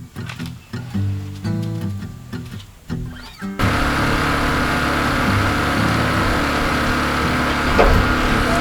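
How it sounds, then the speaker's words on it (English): A generator drives an air compressor powering a pneumatic nibbler for cutting barn tin; after some intermittent motor rattles, a loud steady engine drone takes over and holds close and constant. "I got the compressor on the generator going to power this tool"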